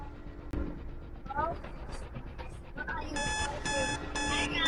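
A rapid electronic train warning buzzer pulses repeatedly in the last seconds in the Roblox game Poppy Playtime Chapter 2. It is preceded by a dog panting and whimpering, with people talking nearby.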